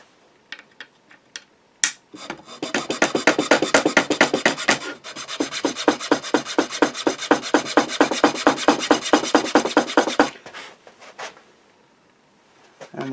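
A file rasps back and forth in a guitar nut slot, a fast, even run of close scraping strokes lasting several seconds, with a few isolated scrapes before and after.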